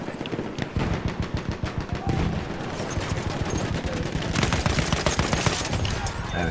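Rapid bursts of gunfire from a new Apocalypse DLC weapon in Battlefield 1, a steady stream of loud close shots with a heavier, denser stretch of firing near the end.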